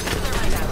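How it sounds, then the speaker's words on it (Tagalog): Grenade blast in a video game: a loud, dense burst of explosive noise that is close and fills the whole moment. "Granada!"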